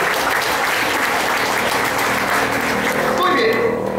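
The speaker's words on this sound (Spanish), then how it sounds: "Le damos un fuerte voto de aplauso." Strong applause from a church congregation, dense and sustained clapping at full loudness, with a few shouts or voices rising near the end.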